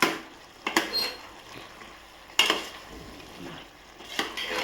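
Chicken sukka being stirred in a pan, with a utensil scraping and clanking against the metal in three distinct bursts over a faint, low background, no talk.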